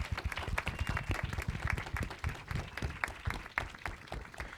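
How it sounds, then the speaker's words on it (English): Audience applause for the filmmakers at a film festival screening, a moderately sized crowd clapping with distinct individual claps audible, steady and fairly close, with faint voices beneath. "A round of applause for the filmmakers."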